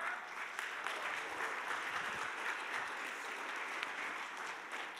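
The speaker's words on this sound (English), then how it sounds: "Give God a hand clap." A church congregation at a Sunday service claps their hands in steady, dense applause that carries through the whole moment, moderately distant and without speech over it.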